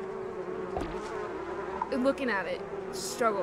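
Bees buzzing in the video game Donut County, a steady insect drone held under the whole passage, with brief rising game chirps and tones breaking in toward the end and a voice muttering faintly.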